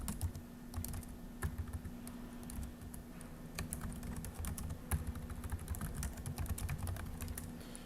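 Steady computer keyboard typing, a quick run of clicky keystrokes with occasional harder taps, close by over a low constant hum.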